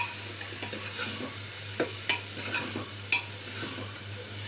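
Chana dal being stirred together with coriander powder, garam masala and tomatoes in a hot pan, a steady sizzle running throughout with a few sharp spoon scrapes and clicks against the metal.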